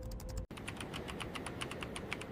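Rapid, steady clicking of keys on a computer keyboard as code is typed into an editor, close and continuous with no talking.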